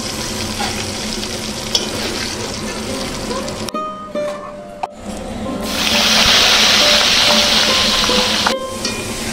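Bay leaves, dried chillies, whole garam masala, black cardamom and peppercorns sizzle in hot oil, a loud close hiss that drops out briefly, then swells louder with stirring clatter.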